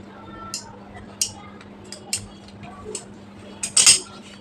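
Scissors snipping small marker notches into kameez fabric, a handful of light crisp snips at irregular intervals over a low steady background hum.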